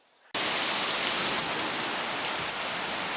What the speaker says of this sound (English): The hail kind of went by, got a lot lighter, windier.